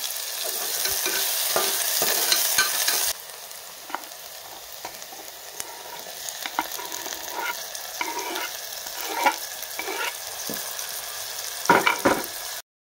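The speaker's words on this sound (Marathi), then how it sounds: "आणि कांदा पण आपल्याला छान परतून घ्यायचा आहे" Onion sautéing in a pan for puri bhaji gives a steady soft sizzle with a spoon stirring and scraping now and then, close and fairly quiet, with no talk.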